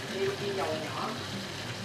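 Rice paper rolls fry in hot oil during a cooking competition, giving a steady, moderately loud crackling sizzle that continues without pause.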